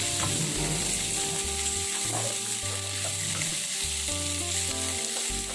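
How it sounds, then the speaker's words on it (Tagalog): Chicken liver sizzles loudly in a pan, frying until golden brown. The crackling spitting is steady and continuous throughout, with stirring heard over it. A melodic music bed plays underneath, and there is no speech. "Then add also the liver and fry it. Fry them until it turns into golden brown."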